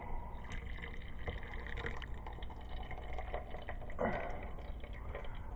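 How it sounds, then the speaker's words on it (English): Homemade cheese mixture poured into a coffee-filter strainer, a soft wet pouring and trickling with liquid splashes and a brief louder slosh near the end, close by with no talking. "then we dump everything into the strainer"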